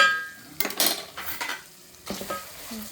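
A spoon scrapes and clinks in a pan while puliyogare gojju is stirred with spice powder, over a soft sizzle, in a few short close strokes.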